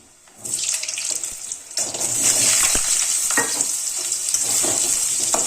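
A loud rush of sizzling starts as potatoes hit hot oil, then a steady bright hiss continues with occasional stirring clatter.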